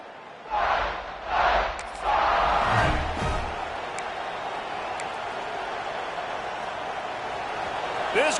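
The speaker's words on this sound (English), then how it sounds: "This crowd bringing the energy and noise early." Stadium crowd in the College Football 26 video game, a broad wash of cheering with a few louder surges early on before settling into a steady roar, with commentary voices over it.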